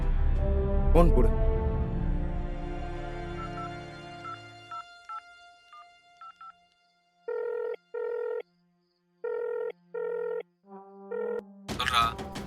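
Landline telephone dialed in a tense crime drama scene, with a run of evenly spaced keypad tones in short repeated bursts after speech and a loud low rumble fade away, ending in a sharp burst of noise.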